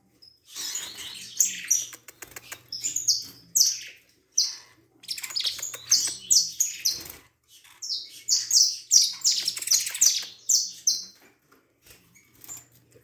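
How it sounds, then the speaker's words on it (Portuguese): A Peruvian saffron finch, an aggressive wild canary, gives loud, close chirps and sharp squawky calls in rapid, uneven bursts with short gaps, plus light rustling and faint background hum. "Pra pegar o outro canário."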